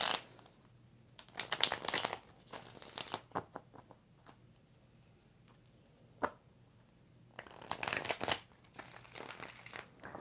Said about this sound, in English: I'm doing 5 shuffles.